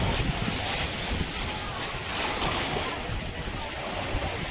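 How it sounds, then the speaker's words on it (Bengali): Sea waves wash and crash against rocks at Little Venice on Mykonos, a constant close roar of surf mixed with gusting wind buffeting the microphone. "দেখো জলের ঢেউটা এসে পাথরে ধাক্কা খাচ্ছে, আওয়াজটাও সুন্দর লাগছে"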